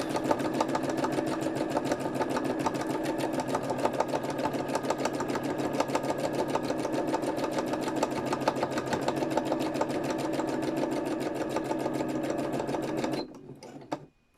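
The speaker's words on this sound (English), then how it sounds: "Stitching down the flower, don't want that falling off." Sewing machine stitching a flower down onto a fabric gardening journal cover, a close, steady rapid whirr with even stitch pulses running for about thirteen seconds before stopping abruptly.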